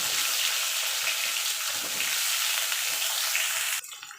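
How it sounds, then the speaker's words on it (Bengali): Pointed gourd frying in hot oil gives a loud, dense, steady sizzle that runs without a break for nearly four seconds, then drops off sharply to a quieter crackle near the end. "এবার আমি পটলটা দিয়ে পটলটা একটু ভেজে নেবো যতক্ষণ পটলের গায়ে একটা হালকা রং না ধরছে"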